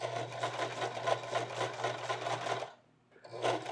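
A sewing machine stitches a seam on pants, a close, steady rapid whirring of needle strokes that stops briefly and then starts again.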